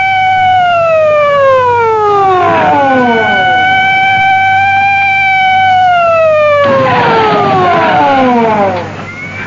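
Several police car sirens wail together on an airport runway, their pitches sweeping down and up as they overlap, loud and close, with a vehicle rumble beneath.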